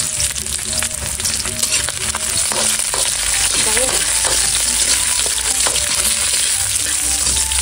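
Garlic frying in a pan for laing, a loud, dense sizzle and crackle that holds steady throughout, with occasional stirring scrapes.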